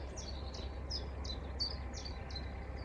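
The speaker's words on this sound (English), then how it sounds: "Just hear the bird song." Faint, repeated high chirping notes from a bird at a distance, over a low steady rumble of outdoor background noise.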